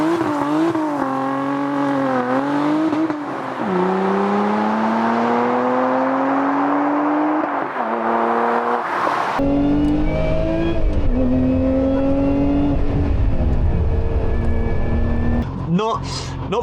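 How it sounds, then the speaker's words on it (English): A Lotus Emira sports car engine revving and accelerating, loud harmonic tones climbing steadily, a sharp cut to another run of rising revs, with a voice talking at times over it. "The sound of this car is so much fun"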